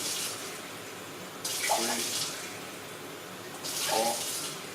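Tap water pours into a measuring jug for rice in a home kitchen, two separate splashing bursts of about a second each with quieter room noise between them, fairly close and with no voices.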